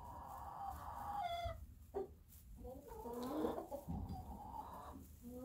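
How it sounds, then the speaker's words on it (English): Chickens cluck and a rooster calls nearby, with overlapping squawks and throaty cackles rising and falling over a few seconds. "Here's one of my roosters."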